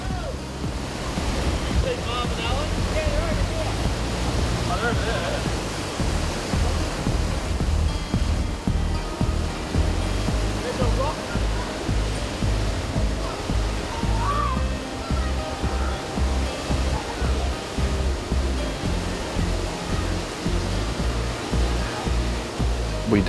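Water pours and splashes steadily at a waterfall with swimming pools, a dense continuous roar with rhythmic surges and wind buffeting the microphone throughout.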